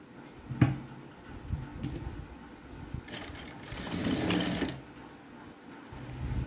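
A sewing machine runs quietly in short uneven bursts while stitching the shoulder seam of a blouse, with a soft mechanical whir and a few sharp clicks, fairly faint and close.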